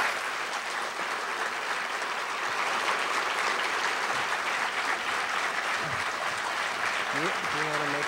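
Sustained applause from a large crowd fills the room, steady and dense, with a voice briefly speaking near the end.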